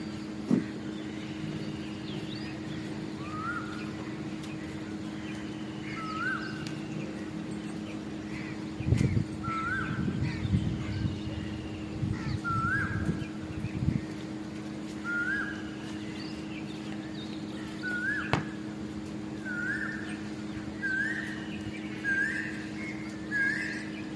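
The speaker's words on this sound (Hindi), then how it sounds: "हवा के साथ साथ पक्षियों की जो चहचहाहट थी मीठी मीठी" Small birds chirp in short, repeated whistled notes on a rooftop on a breezy morning, spaced out at first and then quickening, over a steady background hum with a few brief knocks and rustles.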